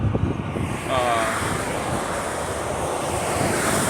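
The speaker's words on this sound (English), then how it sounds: "this place is very windy and very dusty" Strong wind blows in windy, dusty El Paso, a loud steady rushing roar buffeting the microphone, with a brief faint whine early on.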